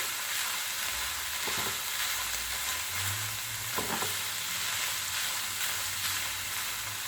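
Stromboli filling sizzling in a pan as it is stirred, continuous frying hiss with a few scraping utensil strokes, close and steady with no talking.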